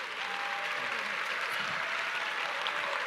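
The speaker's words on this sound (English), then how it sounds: "But for now, the applause." An audience claps to thank ASIC Chair Joe Longo after his keynote at a Financial Counselling Australia conference; the sustained clapping is even and full throughout.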